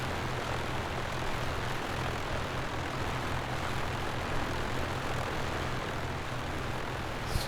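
A2A Aerostar 600 twin-engine aircraft in MSFS 2024 taxiing off the runway, its engines a steady, droning hum with a low pulsing throb that holds evenly throughout, with no talking.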